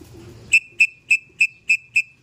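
A racing pigeon arrives at the loft during a derby race, heard as six sharp, evenly spaced whistle-like chirps ringing out alone after a faint low rumble.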